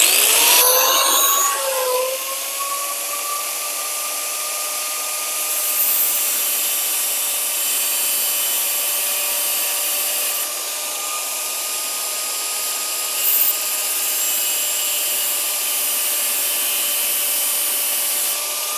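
A snaplock metal roof panel being cut with a power tool, a steady high whining, grinding screech that runs continuously for nearly twenty seconds with slight shifts in pitch as the blade works through the sheet metal.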